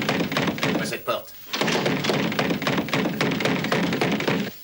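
Heavy knocks thud against a door in a dramatic indoor scene, dull blows mixed with dense, busy background noise and talk throughout, with a brief pause midway.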